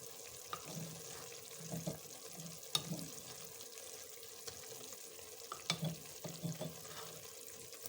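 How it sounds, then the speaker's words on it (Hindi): Water is poured into onions in a pan for chicken biryani and hisses and bubbles steadily. Faint scrapes and soft clinks of stirring come and go, with no talk. "प्याज में मैं 1 कप पानी का डाल दूँगी।"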